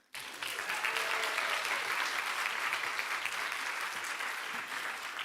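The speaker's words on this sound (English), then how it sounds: "Round of applause for Jana from Jena." An audience at a science contest breaks into a sudden, loud round of applause that holds steady and dense throughout.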